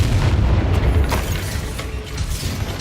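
Bombarda spell explosion in the Hogwarts Legacy video game, a loud, dense rumbling boom with overlapping blast noise and a few crackling pops, sustained without a break.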